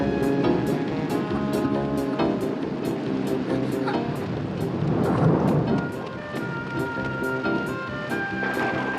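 Cartoon thunderstorm with steady rain and rumbling thunder that swells in the middle, accompanied by a rhythmic music bed throughout.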